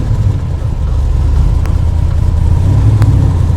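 A 1970 Dodge Challenger R/T idles with a loud, steady low rumble close by, with a couple of brief clicks over it and no talking.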